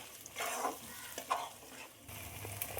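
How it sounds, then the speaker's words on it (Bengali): Spinach paste being stirred into fried spices in a pan while preparing rohu fish with spinach, with a soft sizzle and a few scraping strokes of the spoon at a close distance. "পালং শাক দিয়ে খুব ভালোভাবে নেড়ে দেবো।"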